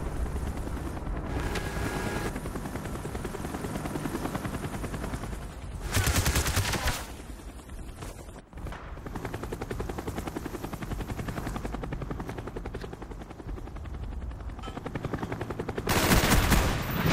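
Cobra attack helicopter in a Call of Duty Black Ops free-for-all match on the Villa map, its rotor drone thudding steadily throughout, loud and near, with bursts of gunfire breaking in over it.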